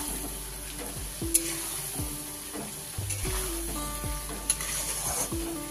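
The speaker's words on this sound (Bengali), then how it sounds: "মশলা কষানো হচ্ছে।" Homemade spices for a red, fiery mutton curry sauté in a pan, a steady sizzle broken by repeated scraping stirs and the odd sharp clink of a spoon, close and fairly loud with no talk.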